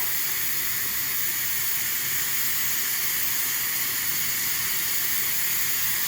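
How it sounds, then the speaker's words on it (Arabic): Steady, loud high-pitched hiss of steam escaping from a pressure cooker while cooking couscous, continuous and unbroken throughout, with a faint rumbling underneath. "سمحوا لي على الصداع ديال الكوكوط"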